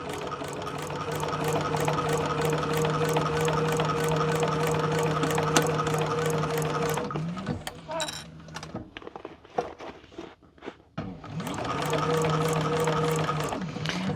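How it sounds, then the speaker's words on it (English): A sewing machine stitches two handbag layers together in a steady, fast mechanical whir for about seven seconds, stops, then runs again. Scattered clicks and brief handling noises fill the pause. "So I'm just gonna stitch around to sew those 2 layers together."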